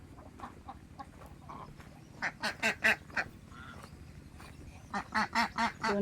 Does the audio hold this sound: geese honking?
yes